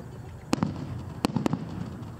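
Several sharp fireworks bangs ring out at SeaWorld in a quick, irregular burst, a few loud cracks close together against steady outdoor background noise.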